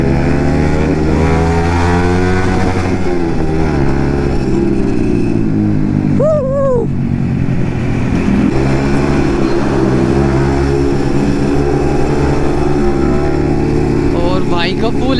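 A Yamaha MT-15 motorcycle with an Akrapovic exhaust idles and revs loudly up close, its engine drone rising and falling in steady harmonics, with a sharp rev burst midway.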